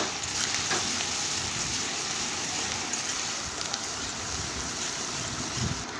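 Ginger paste and whole garam masala spices frying in hot oil for a vegetarian stuffed pointed gourd dish, a steady, dense, loud sizzle that holds evenly throughout.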